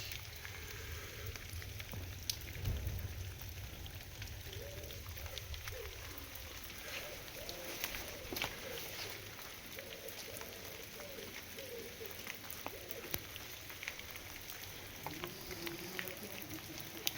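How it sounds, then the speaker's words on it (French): Steady rain falls across a cemetery with old brick buttresses, a soft continuous hiss and patter with a faint low murmur underneath and no clear voices. "c'est pas le meilleur jour pour filmer avec toute cette pluie"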